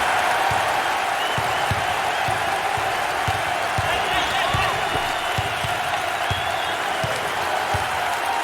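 Arena crowd noise in the NCAA March Madness 08 basketball video game, a continuous roar of cheering with rhythmic ball bounces and squeaks, under game commentary.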